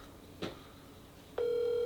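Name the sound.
telephone dialing tones of a phone call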